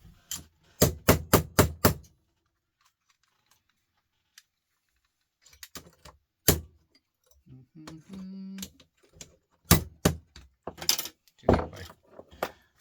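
Sharp, rapid strikes ring out in a quick burst of five, then scattered single hits and another cluster of blows after a quiet pause.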